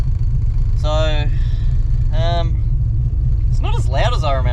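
A VN Commodore fitted with an LS1 V8 idles with a steady, loud low rumble throughout, while a person speaks over it in short bursts.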